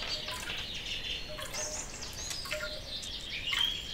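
Bird songs in a stereo attention-training soundscape: a steady bed of chirps and tweets, several birds calling at once with short bright trills recurring throughout, moderately soft and continuous with no voices.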